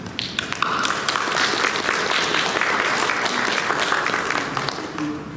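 A church congregation at a Sunday service in London, Canada, applauds warmly to welcome visiting guests, a full, steady round of clapping that fades out toward the end.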